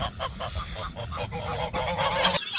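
Geese on a farm in the cold honk loudly and repeatedly, a close, clamorous chorus of overlapping calls that ends abruptly.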